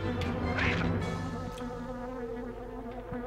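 Bees from the PS1 game The Grinch drone in a constant buzz, briefly swelling near the start and then settling into a steady hum over layered game ambience; nobody speaks.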